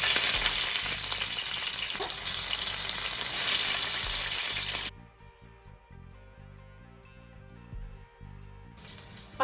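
Slit green chillies hit a pan of generous hot oil for a Nellore-style fish curry, giving a loud, close crackling sizzle for several seconds before it drops to a quieter, softer fry.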